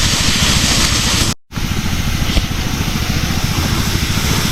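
A sprayer works on a farm, giving a loud, steady hiss of spray with an engine rumbling underneath. The noise is close and constant apart from one brief cutout, then resumes at the same level.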